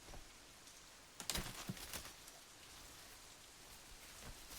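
Heavy rain falls steadily as a soft, even hiss, with a brief burst of louder splashes and drips near the middle.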